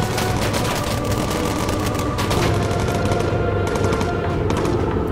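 Sustained, dense rattle of bomber machine guns in the aerial combat game Bomber Crew, fast overlapping bursts firing continuously and loud with no letup.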